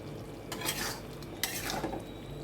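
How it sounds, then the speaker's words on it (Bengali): A utensil stirs tomato curry in a pan, making two short, soft scraping strokes over a faint background hum. "আবার একটু নেড়ে চেড়ে নেব।"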